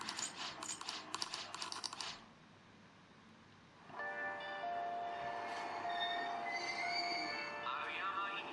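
Quick keyboard clatter gives way to a subway train's steady rumble in the video game Persona 5 Royal, with high metallic wheel squeals whining over the rolling noise.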